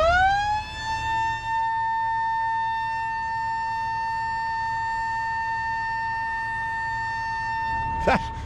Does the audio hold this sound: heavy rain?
no